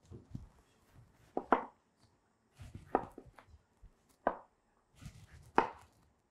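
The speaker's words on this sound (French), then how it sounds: "Donc je pèle mes pomelos à vif." A knife cutting the peel off pomelos in a kitchen, close, quiet, with irregular clusters of cuts and scrapes separated by short pauses.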